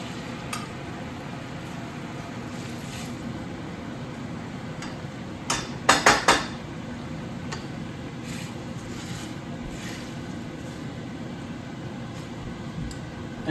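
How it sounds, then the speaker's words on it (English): Mushroom risotto with added broth simmers at a gentle boil in a pot, a steady soft bubbling hiss under slow stirring, with a brief cluster of spoon scrapes against the pot midway. "And so we just keep stirring, and that's what you want. A good boil, not too vigorous, right to the end."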